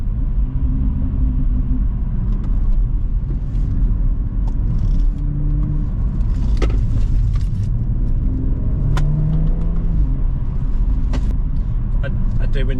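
A remapped car's engine drones steadily as it accelerates along a clear country road, a loud continuous rumble with rising tones and cabin noise throughout, with no one speaking.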